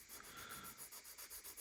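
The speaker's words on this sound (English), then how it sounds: "just sanding down the bits where they were attached to the sprues" Plastic model kit parts for an Audi BTCC race car are sanded by hand where they were cut from the sprues, a fast rhythmic series of soft close rubbing strokes, quiet and alone.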